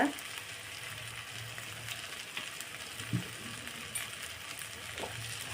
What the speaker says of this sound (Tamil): ஃப்ளேமை குறைச்சி வச்சு இதை நல்லா வதக்கி எடுத்துக்கோங்க